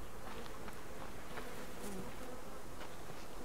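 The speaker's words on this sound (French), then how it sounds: "On entend des abeilles, hein." Faint, steady buzzing of bees somewhere near a tree outside, a low continuous drone with scattered light ticks and rustles, no voices.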